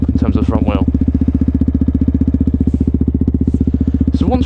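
A 125cc motorcycle engine holds a steady, rhythmic throbbing drone throughout a wheelie, loud and close, with someone talking over it at the start and again at the end.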